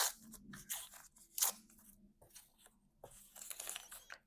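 Paper pieces torn by hand for a mixed media collage grid journal page, several short crisp ripping bursts close by with brief pauses between, no talking.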